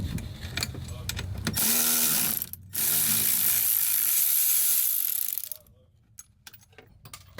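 Dashboard parts on a BMW E46 are popped out, heard as a near, loud stretch of plastic ratcheting and clicking with mechanical rattle, then a short break, more of the same, and a quieter tail with faint clicks.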